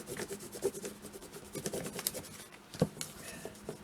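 A spoon rubbed back and forth across creased paper to flatten folds, soft uneven scraping strokes close by with a few sharper taps.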